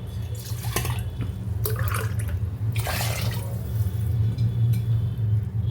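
Water splashing and pouring into a pot in short bursts, with drips and a steady low hum underneath; rice-soaking water being added while cooking potato biryani.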